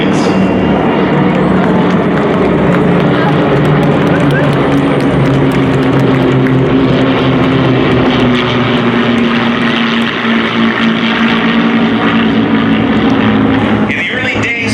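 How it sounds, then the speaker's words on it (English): A B-24 Liberator bomber and P-51 Mustang fighters pass overhead in a flyover, a loud, continuous propeller-engine drone that holds steady throughout. "Here's the Liberator with the Mustangs."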